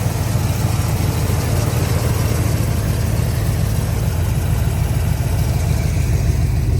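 A station wagon engine idles steadily and loudly up close just after starting, a constant low rumble with no changes in pitch.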